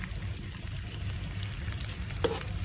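Dried squid and fish cook in a pan, giving a close bubbling sizzle with low rumbling underneath and a couple of brief clinks of stirring, with no voices.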